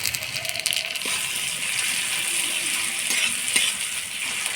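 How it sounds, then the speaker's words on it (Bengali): Chopped tomato sizzles and hisses steadily in a hot pan while cooking muri ghonto, with a few soft clinks and stirring scrapes. "এবারে টমেটো কুচি দিয়ে দিব।"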